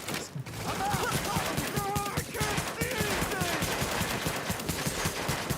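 Rapid gunfire from The Division during a global strike event, a steady dense stream of shots with tonal game effects layered over it and no voices.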